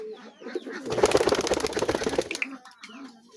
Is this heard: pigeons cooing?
yes